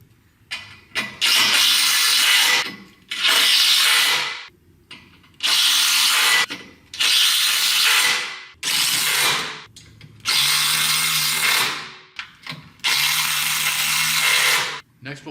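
Power drill driving button head fasteners through a sunroom jamb into the rafters, in a run of loud, steady whirring bursts of a few seconds each with short pauses between them.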